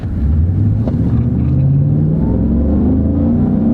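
A truck engine revs up loudly and steadily, its rising drone dropping back briefly as the gear shifts, then climbing again, heard close with no talk.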